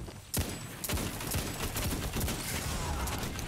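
Gunfire in a Destiny 2 gunfight, a dense, fast-paced barrage of overlapping shots and impacts, sharp onsets rising out of a constant loud clatter of battle noise.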